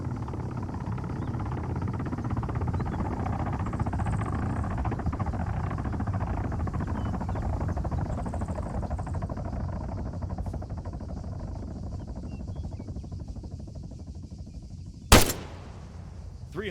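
In Arma 3, a military helicopter target drones with a steady low rotor rumble and engine whine. It holds fairly constant for many seconds, then one sharp loud gunshot cracks near the end.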